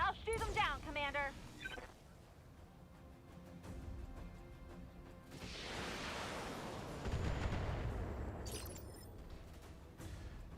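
Mech weapons firing in BattleTech (2018), a long rolling barrage of rumbling explosions and missile bursts building and fading, with game voices heard before the salvo.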